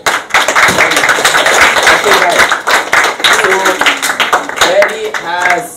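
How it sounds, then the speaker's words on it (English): Applause and scattered clapping from a church convention audience fill the room, dense and steady throughout, with a voice talking over it near the end. "Give a round of applause"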